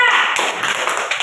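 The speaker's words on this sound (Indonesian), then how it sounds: "Oke, tepuk tangan untuk kelompok A." A classroom group applauds: a burst of quick, loud claps from several people, dense and close, over about a second.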